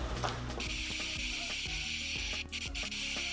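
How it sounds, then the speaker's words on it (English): Chorizo with its casing removed frying in a pan, giving a steady close sizzle and crackle alongside the intermittent scrape and clatter of a utensil working the meat, with no talking. "then I'm going to fry it up"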